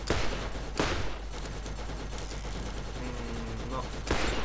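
Gunfire in Borderlands: a few sharp, loud shots and bursts at the start, near one second and again near the end, with a low rumble and voices between them.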